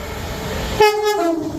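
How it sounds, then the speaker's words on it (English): A London Euston-bound Pendolino train passes at Rugby on the West Coast Main Line, its loud two-tone horn blaring suddenly over the rumbling roar of the wheels and continuing briefly as the train rushes by. "through here we've got a London Euston bound Pendolino"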